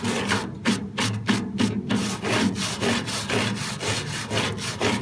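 A soft plastic-bristle dollar-store toilet brush scrubs set but uncured grout off a broken-china mosaic garden planter, rhythmic raspy back-and-forth strokes, close and steady.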